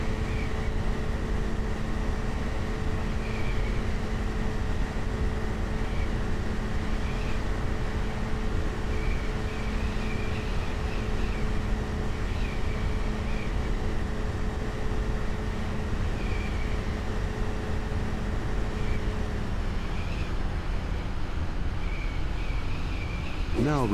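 A steady airplane engine drones continuously and evenly at moderate loudness in Microsoft Flight Simulator X during a first takeoff-and-landing mission, with faint periodic chimes and a voice speaking over it.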